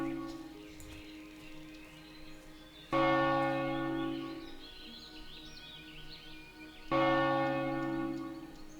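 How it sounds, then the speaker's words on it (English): A church bell tolls in Northshire Valley in World of Warcraft, two clear resonant strikes a few seconds apart, each ringing out and slowly decaying over faint birdsong. "I did not know that the bell rang."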